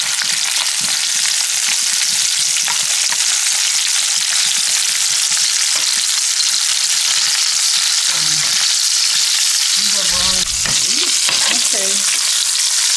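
Sausage sears loudly in a hot frying pan with a constant, dense sizzle, joined by occasional scraping stirs and brief clinks of a utensil toward the end.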